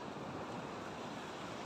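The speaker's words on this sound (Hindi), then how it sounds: "ये समंदर" Sea waves at Cola Beach in South Goa wash in a steady, even roar of surf, faint and distant with wind noise, continuous and without voices.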